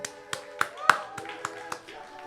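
A few people clap sparsely at a live podcast taping, a handful of distinct separate claps at an irregular pace rather than a full ovation, with a voice talking and a pitched tone running underneath.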